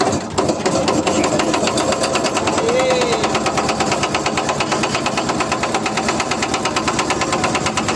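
A boat engine runs loud and close, a steady rattling, knocking drone with a fast mechanical pulse that holds evenly throughout after a brief start at the beginning.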